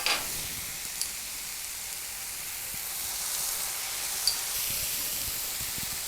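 Egg white sautéing in a pan with soy sauce, chili sauce and tomato sauce gives off a steady, continuous sizzle with a few soft stirring taps, close and unbroken, with no talking.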